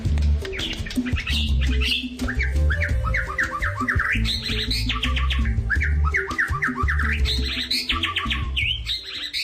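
Many caged kacer birds (magpie robins) at an Indonesian village bird-breeding site squawk and chirp loudly and continuously, with overlapping repeated whistled calls over a dense low background.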